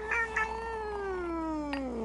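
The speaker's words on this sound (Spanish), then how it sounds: "El gato rayado del colmenero se sentó junto al vampiro y maulló penetrantemente" A striped cat lets out one long, drawn-out caterwauling meow that slowly falls in pitch, close and clear, after a couple of short cries at the start.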